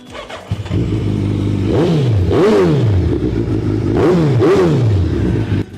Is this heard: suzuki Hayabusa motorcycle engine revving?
yes